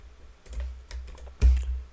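Typing on a computer keyboard while coding in Python, a few soft, scattered keystrokes with one louder tap near the end, quiet and close.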